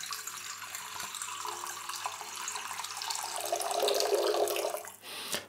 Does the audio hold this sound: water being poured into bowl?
yes